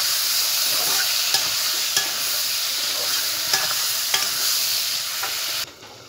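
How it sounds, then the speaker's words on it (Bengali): Chicken meat and onions fry in a pan with a loud, steady sizzle and occasional stirring scrapes, then the sound drops sharply near the end as the pan is covered. "এবার আমি মাংসটি দিয়ে দিলাম"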